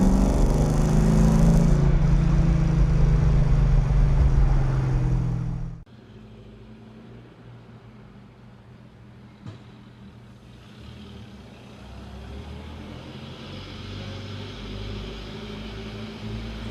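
A 1971 Alfa Romeo Montreal drives, its engine a loud close rumble that cuts off sharply, leaving quieter low-end running and road noise that slowly builds again.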